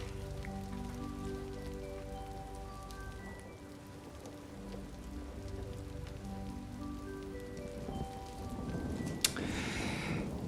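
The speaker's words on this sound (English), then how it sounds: "It's raining." Steady rain patters on a surface throughout, with faint tonal sounds in the background and a sharp brief crackle near the end.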